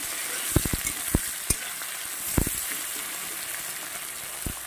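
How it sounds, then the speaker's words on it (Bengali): Onion, tomato and green chili frying in a pan for a lentil-and-vegetable labra, a steady soft sizzle with several sharp crackles and pops scattered through it. "এখানে আছে একটা পেঁয়াজ আছে, টমেটো আছে, কাঁচা লঙ্কা আছে। এবার সুন্দর করে এটাকে ভেজে নেব"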